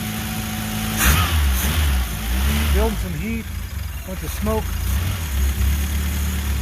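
A car engine with a badly leaking accelerator pump idles steadily with a low rumble, close by, while someone talks over it.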